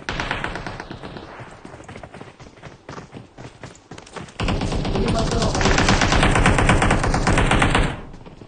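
Rapid automatic gunfire in the mobile game PUBG Mobile rattles in long sustained bursts, growing louder and denser in the second half before stopping abruptly.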